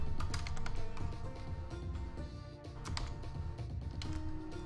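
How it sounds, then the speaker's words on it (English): Computer keyboard typing while entering a command for an Erlang tic-tac-toe program, a busy run of clicking keystrokes over steady low background noise, no talking. "simply type help"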